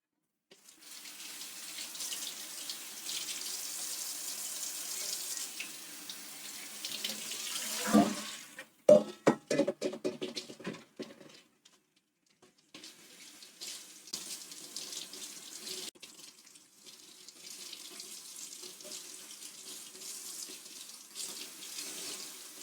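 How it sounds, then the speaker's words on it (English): Tap water runs into a kitchen sink while beef tendon is rinsed under it, a steady close stream broken by splashing and handling in the middle, then running steadily again. "I'm gonna rinse out the tendon"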